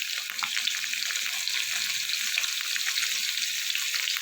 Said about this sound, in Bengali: দিয়ে আলুটাকে ভালো করে লাল করে আমি ভেজে নেব।